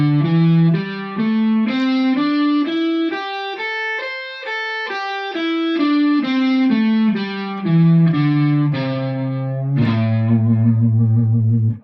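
Distorted electric guitar plays a minor pentatonic scale in first position, climbing note by note and then descending in a steady, even rhythm, loud and alone with no talking over it.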